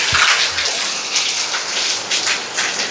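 Heavy rain pours steadily beside a house next to a forest, a dense, close hiss of drops striking surfaces with slight surges in intensity, heard on its own without voices.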